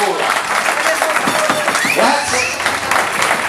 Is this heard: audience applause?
yes